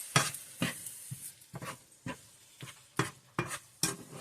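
A spoon stirring sloppy joe mix into drained hamburger meat in a pan, giving a regular series of scraping, clacking strokes about every half second with a soft sizzle between them, close up and with no talk.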